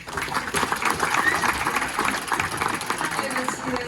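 A speedway press conference crowd claps and applauds steadily throughout, a dense wash of hand claps with a few voices mixed in.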